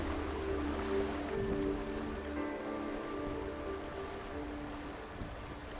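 The Nyamba River flows through a karst canyon near Tongling Waterfall in southwest Guangxi, a steady, moderately faint rush of running water that holds constant for several seconds with no voices.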